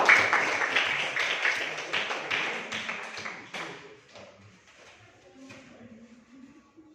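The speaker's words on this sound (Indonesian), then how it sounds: "tepuk tangan untuk kita semua" A class of students claps hands together in a classroom, a lively burst of many claps that fades over a few seconds into scattered taps, with faint voices in the background.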